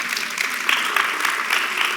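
An audience applauds steadily at a conversation event about art on screen. The clapping is dense and sustained, with the crowd close and fairly loud, and no speech stands out.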